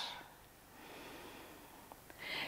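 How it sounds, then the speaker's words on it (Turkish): A child exhales through the nose during a children's yoga breathing exercise, a soft airy snort-like breath, faint and close, with a sharper nasal puff at the end. "Burnundan ver."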